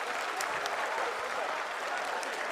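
Crowd in a mission control hall applauding after the Chandrayaan-3 lunar soft landing, a sustained roar of clapping at moderate level with a few sharper claps standing out, no speech on top.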